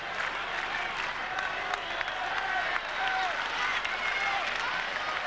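A baseball crowd cheers and applauds at a Red Sox home game against the Oakland Athletics. The loud, steady roar carries scattered whistles, and a commentator talks over it.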